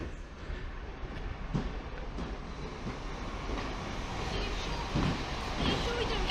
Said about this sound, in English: Train to arrive at platform number 2 with the 1600 steam service